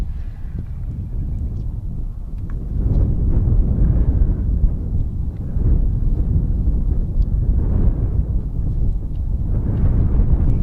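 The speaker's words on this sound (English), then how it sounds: "Now you will hear the wind, but that's just part of the experience. It's windy today." Wind roars across the microphone in low, rumbling gusts that rise and fall, loud and continuous with no voices.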